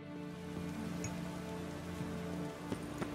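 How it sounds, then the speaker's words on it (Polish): Steady rain falling in The Witcher 3, a soft continuous patter on the ground with a low ambient hum beneath and a few faint drips near the end. "Ciągle pada"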